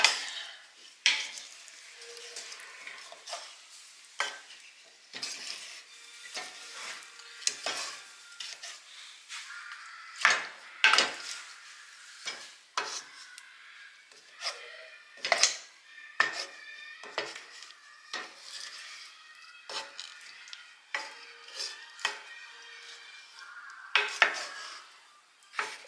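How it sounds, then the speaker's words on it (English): Wooden spoon stirring a melting mixture in a metal pot on the stove, with repeated scraping and knocking strokes against the pot close up, steady and uneven in rhythm, with no talk. "We're going to go to a wooden spoon. And make sure you stir the whole thing around so you don't burn any of it."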